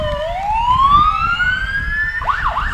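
A DARE police car's siren wails at a July 4th parade, a loud, close rising whoop that climbs slowly and then breaks into a rapid yelping warble over street and crowd noise.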